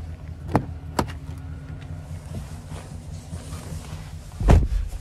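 Getting into the driver's seat of a 2024 Chevrolet Tahoe LT, two soft knocks and rustling, then a solid door thud close by.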